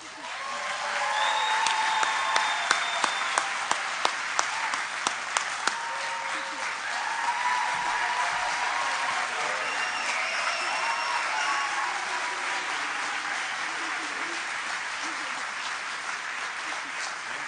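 A large audience applauds a graduating firefighter recruit class at Eastside Fire and Rescue, sustained even clapping from a big crowd with a few sharp claps standing out early, steady throughout.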